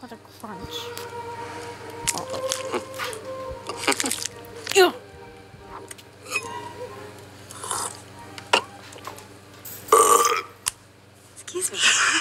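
A long loud belch at the dinner table in the Shrek 2 film scene, a deep rumbling burp heard among speech, with people talking before and after it.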